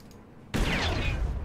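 Gunfire erupts in the turn-based strategy video game Warmachine Tactics, a sudden loud burst after a quiet moment that sustains as a dense, rumbling volley until the clip ends.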